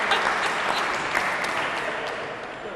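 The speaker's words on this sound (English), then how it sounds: "I need some clapping." An audience claps at a retirement celebration, a dense, steady burst of applause filling the room and easing off slightly toward the end.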